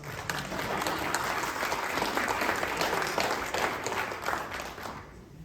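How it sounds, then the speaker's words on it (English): A public forum audience at a town center meeting applauds the mayor with dense, sustained clapping that fills the room and drops off abruptly near the end. "Get an applause for us."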